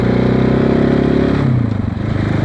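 A KTM 690 Enduro R on supermoto wheels with an FMF exhaust hums steadily as it is ridden, a continuous loud engine drone that dips briefly toward the end, heavy wind buffeting over it.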